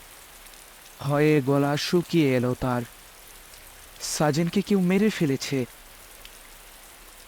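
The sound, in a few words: heavy rain falling, horror cartoon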